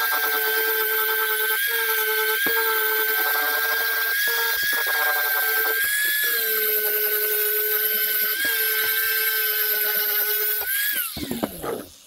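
A power grinder cleans metal before TIG welding with a continuous, loud, high whine. Small dips and scrapes break the sound as the tool works the surface, then it winds down and rattles to a stop at the end.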